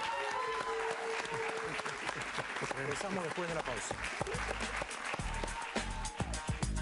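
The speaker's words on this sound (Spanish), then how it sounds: "Un aplauso para ella, por favor." A television talk show's studio audience claps and cheers in a steady burst of applause while music plays and a presenter speaks over it.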